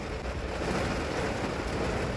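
Steady rain pours down in a dense, hissing wash, close and continuous with no voices.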